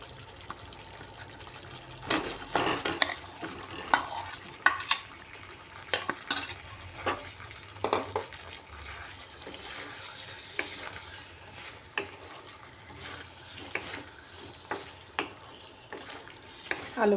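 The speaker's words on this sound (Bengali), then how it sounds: "আলুর সাথে মশলাটাকে একটু সময় খুব ভালো করে কষিয়ে নিতে হবে" Fried potatoes stir-fried with spices for alur dum, vegetarian style, with a low bubbling sizzle and frequent sharp spatula scrapes and clacks against the pan at an uneven pace, close by.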